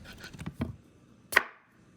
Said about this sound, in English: First, we got to cut our potatoes in half.